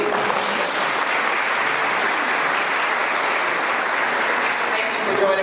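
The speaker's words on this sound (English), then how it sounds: "Give her a round of applause, please." A conference audience claps in sustained applause for several seconds, dense and even throughout, with a voice briefly audible under it.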